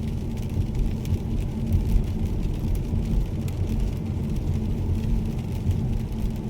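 A car cruises on an open road through sparse wilderness during a long road trip from Delhi toward Canada via London, with steady, dense low engine and tyre rumble and wind noise throughout, close and continuous with no talk.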